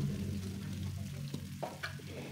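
Carrot and vegetable chop suey stir-fried and stirred in a pan with seasoning, a steady soft sizzle with scraping stirs of a utensil and a few sharper clinks, no talking.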